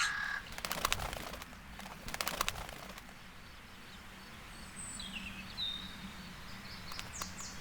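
Several loud crow caws in bursts early on in Rome, then quieter outdoor city ambience with faint distant bird calls.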